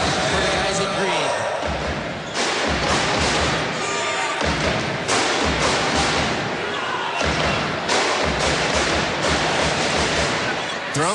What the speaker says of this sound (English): Drums are banging,